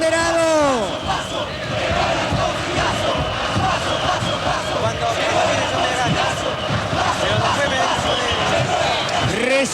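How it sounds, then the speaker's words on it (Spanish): A large crowd at a political rally roars and cheers in a sustained ovation for Raúl Alfonsín, with whistles and shouted chants rising over the dense, continuous noise. "recibiendo la mejor ovación"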